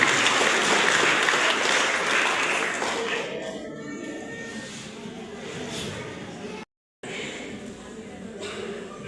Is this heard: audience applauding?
yes